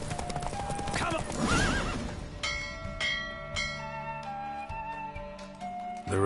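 In The Witcher 3, Roach the horse gallops with rapid hoofbeats, then gives a loud neigh near the start, while bell-like tones ring out and the clatter fades into the game's ambience.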